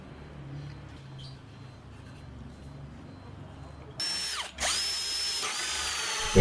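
A hole saw bores through a wooden board, the power drill whirring low and steady before surging into a loud, harsh cutting roar that dips briefly midway, then picks up again, with no talk.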